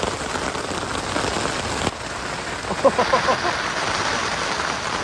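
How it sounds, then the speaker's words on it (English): Rain dripping and pattering steadily on a mountainside, a dense close hiss of drops with a few louder nearby drips, no talking. "It's dripping."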